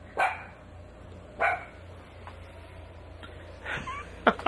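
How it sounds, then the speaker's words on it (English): A small dachshund barks a few sharp, separate times at uneven intervals against a quiet background, ending in a quicker pair of yips. "all that noise comes from that little itty-bitty dachshund right there"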